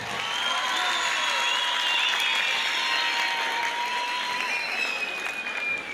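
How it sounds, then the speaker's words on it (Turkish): A large outdoor crowd at a youth festival concert applauds steadily, a dense continuous wash of clapping with faint whistles and cheers, loud and sustained without clear breaks. "Tempolu bir alkış istiyorum."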